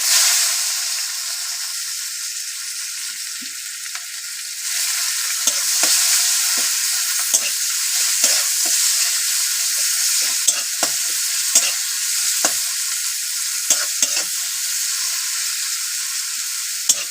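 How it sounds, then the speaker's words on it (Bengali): Chopped onion fries loudly in a pan for a cabbage and fish-head chorchori, a continuous bright sizzle broken by repeated sharp scraping clicks of a spatula stirring, close and steady throughout. "পেঁয়াজটা একটু হালকা লাল করে ভেজে নেবো"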